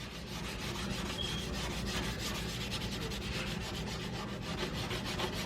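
Close, steady scrubbing of a stainless steel sink with baking soda and half a lemon, a continuous rhythmic rubbing with no voices.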